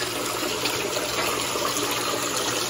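Pet splashing as it goes into water, heard as a steady broad rushing and gushing of water that fills the whole moment at close range, loud and unbroken.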